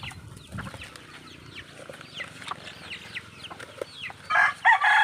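Chickens on a Philippine farm with pigs cluck and chatter in scattered bursts close by, then a rooster crows loudly at the end over the flock.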